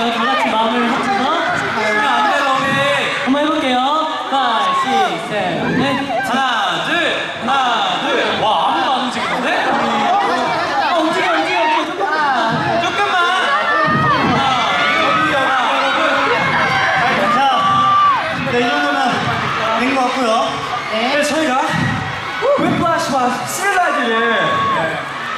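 A concert crowd at a Seoul music festival cheers and screams continuously, loud and dense, with whoops and chatter mixed in and voices speaking over the noise.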